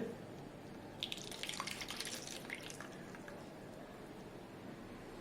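Soaking water drains from raw peanuts that were soaked for several hours. Faint trickling and dripping last about two seconds, then fade into a quiet background.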